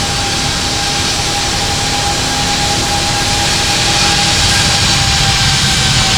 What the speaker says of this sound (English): Wait for those engines to spool up any moment now.